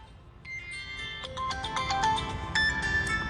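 A phone ringtone plays a bright electronic melody of short stepped tones, building slightly louder over a few seconds with no one speaking.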